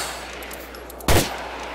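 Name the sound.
gunfire from police shooting at player, from video game GTA 4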